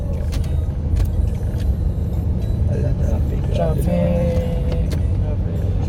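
Road traffic rolls along an elevated expressway, a dense continuous roar of cars and buses with scattered clinks, while people chat over it.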